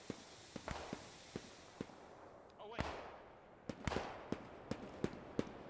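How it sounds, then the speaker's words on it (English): Sustained machine gun fire in the WWII game Post Scriptum, during a realism event near a disabled carrier and a Cromwell tank, heard as scattered sharp cracks and bursts at middle distance, fairly faint, mixed with louder blasts. "We've got the endless machine gun fire going on here for the Allies."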